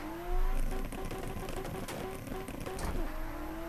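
Drift car engine in Assetto Corsa, a whining rev that holds steady then climbs and dips with clutch kicks, over a dense mechanical whir.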